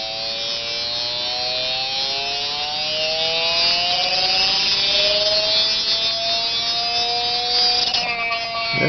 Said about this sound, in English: that's my neodymium ball magnet Bedini. Want to hear it rev up?